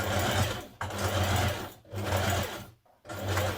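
A sewing machine stitches a maxi dress seam at an angle, running in three steady whirring bursts separated by brief pauses as the fabric is guided off the side.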